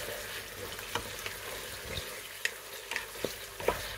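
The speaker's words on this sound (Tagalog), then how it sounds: "Gisahin natin siya." Chicken liver sautéing in a pan, a steady close sizzle with scattered pops and occasional stirring scrapes, no one talking.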